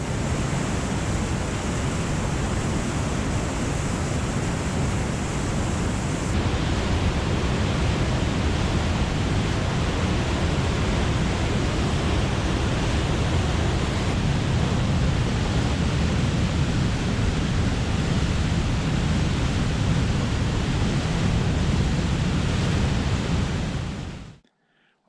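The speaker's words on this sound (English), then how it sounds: "The water was really moving." A fast river rushes out into Lake Superior off Highway 61 on Minnesota's North Shore, a steady, dense, broadband roar of moving water heard close and loud without pause, ending abruptly.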